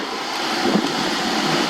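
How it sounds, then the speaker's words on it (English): An AIIYME SH-168 dog grooming hair dryer blowing on its low setting while drying a small, towel-dried dog: a steady, even rush of airy noise that holds constant throughout. "try the hair dryer."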